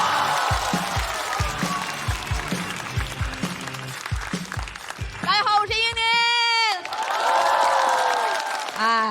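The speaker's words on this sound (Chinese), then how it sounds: "掌声有请英宁。" A stand-up comedy audience breaks into a burst of applause and crowd noise over a thumping, rhythmic stage music cue, followed by sustained tonal music.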